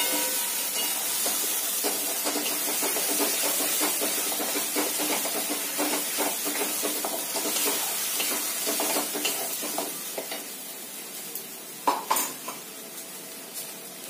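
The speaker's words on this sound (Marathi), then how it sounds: "छान तेलावर परतवून घेणार आहोत आपण" Paneer sautéing in hot oil in a kadhai, a loud steady sizzling hiss throughout with light scrapes and clinks of stirring, and a couple of sharper knocks near the end, no voices.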